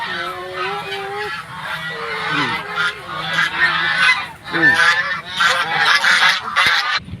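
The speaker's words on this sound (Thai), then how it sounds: "ไปดูห่านเนี่ยไปดูห่าน" Several geese honk loudly and repeatedly, overlapping calls in a noisy flock close by, with no talking.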